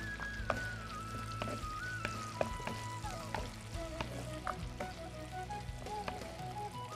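Chopped onions with green chillies and curry leaves frying in hot oil in a pan, a steady close crackling sizzle with scattered pops and faint clinks, continuous throughout with no talk.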